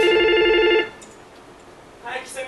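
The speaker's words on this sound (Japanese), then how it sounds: "ちょっと電話ですよ店長。" Telephone bell rings loudly in a rapid repeating trill for under a second in a café comedy sketch, then cuts off as a voice begins speaking softly.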